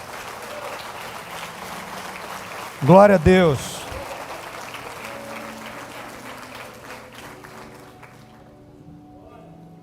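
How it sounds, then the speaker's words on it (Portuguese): A church congregation at a Sunday worship service applauds steadily for the whole span, moderately loud, while a voice speaks over it and a short sung phrase rises in the middle before the clapping fades toward the end. "Fique de pé e dê um aplauso ao Senhor por essa palavra"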